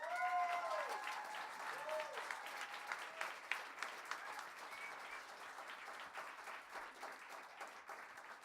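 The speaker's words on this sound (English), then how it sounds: "get another round of applause" An audience at a live studio music session applauds with steady, dense clapping that fades gradually, with a brief voice or tonal sound at the very start.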